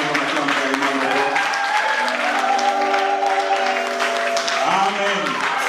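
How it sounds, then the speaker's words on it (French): A church congregation claps and cheers at the end of a French-language service, steady applause running throughout as voices call out and singing and amen-like responses rise over the crowd noise. "Est-ce qu'on peut acclamer comme on acclame réellement le roi?"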